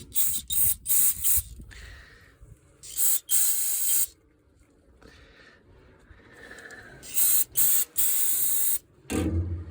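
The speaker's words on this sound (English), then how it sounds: "I'm just gonna spray each and every one of them" Short hissing bursts of aerosol penetrating oil sprayed on bolts, repeated several times in quick succession with brief pauses, close and fairly loud.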